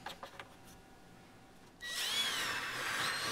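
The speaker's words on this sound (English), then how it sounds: "Screwing it down" A power drill drives screws into a wooden miter station. A few faint clicks give way to a loud, whining drill run that starts partway through and holds steady to the end, with no voices.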